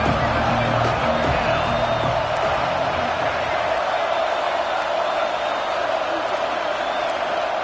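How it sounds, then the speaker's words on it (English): Big stadium crowd roar in the NCAA 26 college football video game, a loud, sustained wash of cheering that holds steady throughout, with game commentary voices faintly beneath it. "Here comes the noise from this big crowd."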